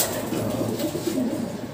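Racing pigeons coo in a steady, low murmur from several birds close by, a continuous soft burbling with faint rustle and no talk over it.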